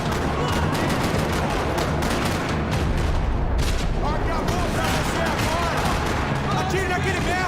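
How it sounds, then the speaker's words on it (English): Dense, rapid gunfire crackles continuously in the video game Max Payne 3, with bursts of automatic fire and overlapping shots filling the whole stretch, loud and close. "Another parking lot rattling with gunfire."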